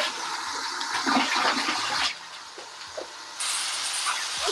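A toilet flushing in a home bathroom, a loud rushing gush of water that drops away, followed by a tap turning on with a steady hiss of running water.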